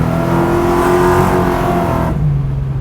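A Pontiac Firebird Trans Am drag car engine roars and revs loudly up close, pitch climbing as it accelerates in second gear, then drops abruptly as the throttle lets off.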